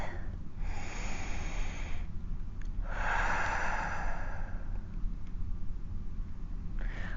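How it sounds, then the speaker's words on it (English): A slow cleansing breath during a beginner yoga session, a long soft airy exhale rising and fading in a quiet room, with a shorter breath before it and another starting near the end. "Take a cleansing breath."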